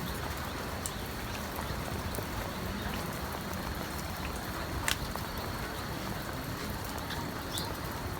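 Light drizzle falling over a rural village of southern Laos, a steady soft hiss of fine rain with scattered faint drips and occasional distant bird chirps, no talking.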